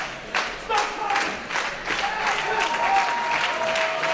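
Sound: clapping

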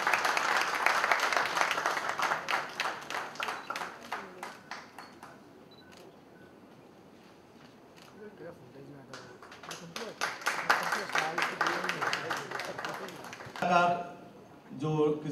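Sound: audience applause for Rajeev Nigam at book launch

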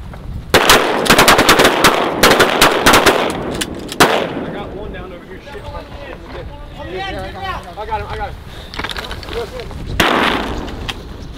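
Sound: shotgun shots while duck hunting

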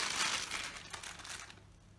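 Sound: bag being handled and crinkling

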